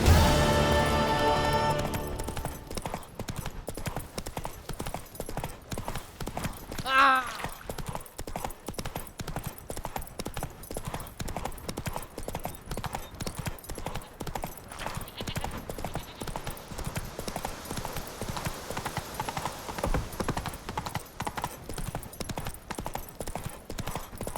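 Roach, the horse in The Witcher 3, gallops in a long, fast, steady drumming of hooves, with a short snort or whinny early on and game ambience beneath, no talking.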